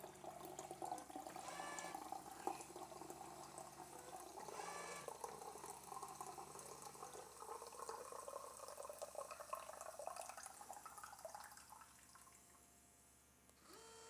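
A SodaStream Fountain carbonating water gives a continuous rushing, bubbling hiss with fizzing and gurgling that holds steady at moderate level and fades slightly at the end.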